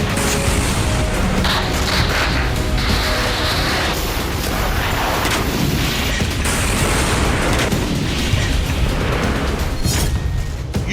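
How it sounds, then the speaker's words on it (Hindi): Continuous dense rumbling and crackling bursts of sustained heavy shelling and explosions in Ukraine during the Russia-Ukraine war, loud throughout with no pauses. "यूक्रेन पर विस्फोटकों का बरसना जारी है।"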